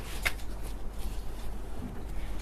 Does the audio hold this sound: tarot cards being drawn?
yes